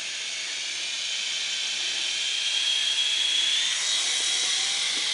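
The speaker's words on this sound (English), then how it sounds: "Mark Lee, test flight take 1." A small helicopter, likely a model, takes off on a test flight with a steady high-pitched whine and hiss that rises slightly in pitch and stays loud and close throughout, with no talking.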